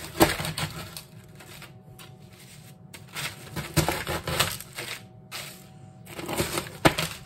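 Oreo cookies for a dump cake are crushed into pieces, giving irregular crunching and cracking bursts with crisp snaps, close and fairly loud, in uneven pulses with brief quiet gaps.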